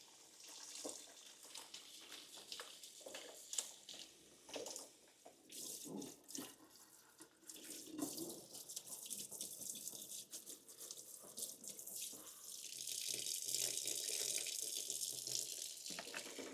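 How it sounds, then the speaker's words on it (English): Hot water running from a tap into a sink, a steady splashing stream that grows fuller and louder as the basin fills, heard close and alone. "I'm filling up the sink with some hot water and bleach."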